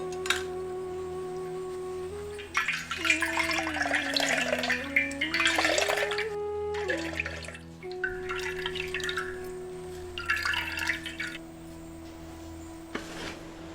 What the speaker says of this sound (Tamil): இப்ப ஒரு தேங்காய நல்லா அரைச்சு பாலை பிழிஞ்சு எடுத்துக்கலாம்